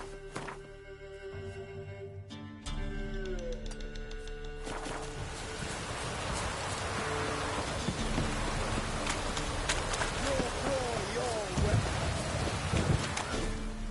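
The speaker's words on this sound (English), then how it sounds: "A storm, damn it." Steady heavy rain of a storm in The Witcher 3, with a dense hiss and occasional low rumbles of thunder, building after a short quieter start and continuing on its own with no talk.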